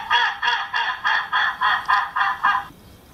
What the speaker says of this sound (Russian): Злая утка, например, как звучит.